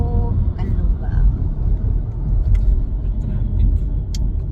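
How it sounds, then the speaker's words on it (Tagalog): Steady road traffic rumble from cars passing near Kanlubang and Calamba in the Philippines, a continuous low drone heard from inside a moving vehicle with occasional faint clicks. "Traffic."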